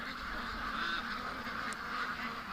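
Ducks honk and quack faintly at a distance over a low, steady outdoor hiss, with a few soft calls overlapping one another.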